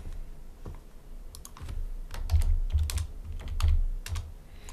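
Typing on a computer keyboard while writing Haskell code: irregular bursts of crisp key clicks and thumps, close and alone, with short pauses between runs.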